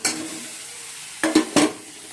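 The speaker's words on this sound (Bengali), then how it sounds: "এবার আলুগুলো দিয়ে দেবো এবার ভাজা আলুগুলো" Fried potatoes tossed into a pan of cooked-down spice paste for a Bengali curry, a soft sizzle followed by two quick scraping stirs near the end, close and alone.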